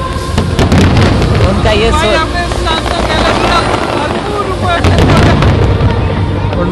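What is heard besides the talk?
fireworks exploding over Busan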